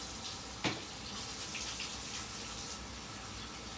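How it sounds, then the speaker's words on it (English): Tap water runs steadily while hands are washed at a kitchen sink during chicken prep, a soft continuous hiss with one brief clunk near the start and no talking. "let me wash my hands one more time."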